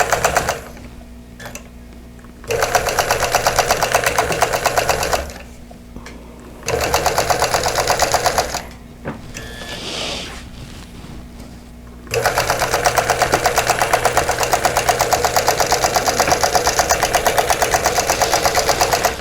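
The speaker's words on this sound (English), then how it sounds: "I'm going to pull up my bobbin thread and then just quilt across." A sewing machine quilting across fabric and batting for star and tulip place mats, loud rapid stitching in several bursts of a few seconds each, broken by short pauses, close to the microphone and without voices.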